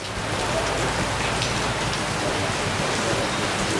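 Heavy rain pours down in a dense, unbroken hiss of drops on surfaces, loud and steady throughout with no other sounds standing out.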